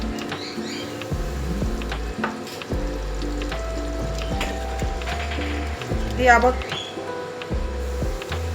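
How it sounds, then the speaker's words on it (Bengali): Gathi kochu dum, a taro dish, being stirred after chopped coriander goes in: soft sizzling and scraping from the pan under steady background music. "দিয়ে আবার একটুখানি নাড়িয়ে নিলাম"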